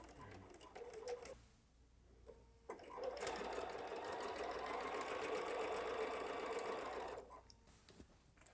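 A sewing machine stitching quilt block fabric pieces runs steadily for several seconds, preceded by brief starts and stops and faint handling sounds, with no talking.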